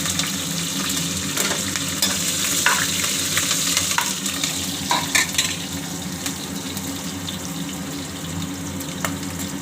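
Green chilies fry in hot oil on a low flame for a brinjal curry, giving a loud, continuous sizzle with scattered stirring scrapes and spatters throughout and no voices.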